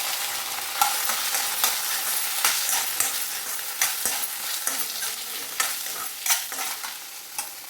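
Finely chopped onions fry in a pan with ginger-garlic paste, a continuous sizzle broken by regular scraping clicks of a spoon stirring, close and fairly loud with no talk.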